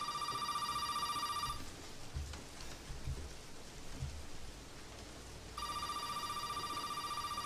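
A telephone rings in Resident Evil 7, a repeated electronic ring heard clearly at the start and again at the end, with rain-like ambient hiss in between.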